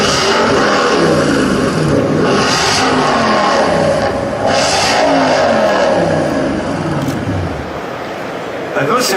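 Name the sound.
Infiniti 420 horsepower V8 car engine revving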